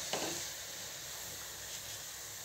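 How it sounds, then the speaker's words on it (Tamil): Maida biscuits fry in hot oil with a steady, even sizzle and a soft hiss, heard close and without any voices, plus a faint bubbling crackle near the start. "பாருங்க நல்லா ஃப்ரை ஆயிட்டிருக்கு, நல்ல ஒரு ப்ரௌனிஷ் கலர் வந்துருச்சு"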